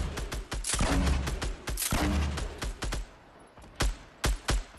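Sharp gunshots ring out in the Fortnite video game, a rapid burst of close, loud cracks followed by a few more spaced single shots.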